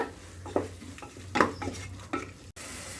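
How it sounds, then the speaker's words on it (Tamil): Chopped tomatoes sautéing in oil in a pan for a plain kuska biryani, a spoon scraping and stirring in a few distinct strokes over a steady soft sizzle, close by. "தக்காளி இதெல்லாம் வந்து நம்மளுக்கு நல்லா வதங்கி வரட்டுங்க"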